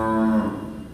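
A cow lows loudly and close by at an urban cow shelter in Delhi, a single drawn-out, tonal moo that fades slightly toward the end.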